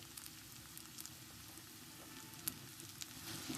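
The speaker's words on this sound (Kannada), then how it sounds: "ಬೆಳ್ಳುಳ್ಳಿ ಹಾಕ್ತಾ ಇದೀವಿ ಫ್ರೈ ಮಾಡ್ಕೊಳಕ್ಕೆ." Garlic, ginger, onion and cloves fry in oil in a pan for a chicken biryani gravy, a faint, steady sizzle with scattered soft pops and crackles up close, and no one speaking.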